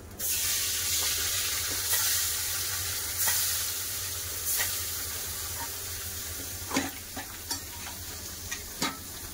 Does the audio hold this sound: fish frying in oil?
yes